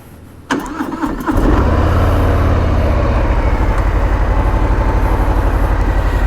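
A Harley-Davidson Fatboy motorcycle starts with a cranking whir, then its V-twin settles into a loud, steady, loping idle with an even thumping rhythm, close up, with no talk.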